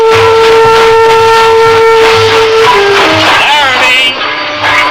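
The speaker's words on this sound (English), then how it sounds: "The brakes are applied and the train slows down." Radio drama sound effect of a train braking and slowing: a loud, steady high whistle-like tone over rhythmic low rail clatter, then a wavering squeal as the sound fades into quieter rumbling, with a voice speaking over it.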